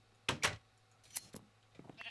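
Sheep bleating in a Minecraft-style block video game: two loud, close bleats early on, then a few fainter game bleats and clicks, with no talk.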